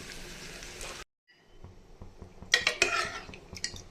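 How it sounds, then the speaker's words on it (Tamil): Hot tempering is tipped into a pot of snake gourd and chana dal kootu, then stirred with clinks and scrapes of a utensil against the pot, after a brief silence, with no talk. "நம்ம தாளித்து கொட்டினதை இதோட சேர்த்தாச்சு."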